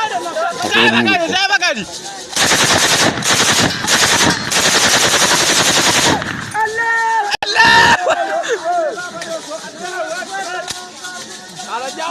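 Sustained bursts of machine gun fire crackle loudly for several seconds amid reports of insecurity in Edo State, with excited shouting and a babble of voices before and after the shooting.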